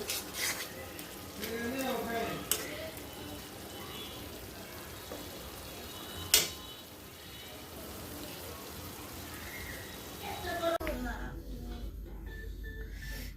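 Soft sizzling of dried fish frying in a pan, with occasional clinks and stirring scrapes and some background noise; fairly quiet overall.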